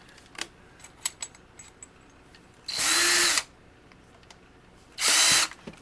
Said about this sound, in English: Let's try drilling into this first